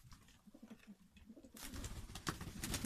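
Soft pigeon coos repeat in a low rhythm, then a louder burst of rustling and flapping noise takes over, with another coo close by.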